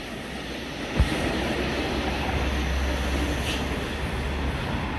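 A VIA Rail passenger train hauled by a Siemens Charger locomotive passes in Montreal, a broad, steady rumble and roar of rolling cars that holds loud throughout, with a brief thump near the start.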